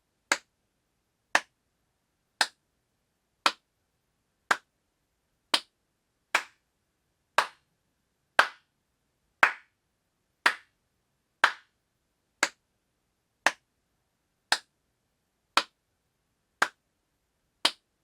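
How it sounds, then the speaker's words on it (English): Single sharp hand claps ring out in a home theater room, about seventeen of them, evenly spaced roughly once a second, each crisp and isolated against silence. "let's go ahead and do that final clap test"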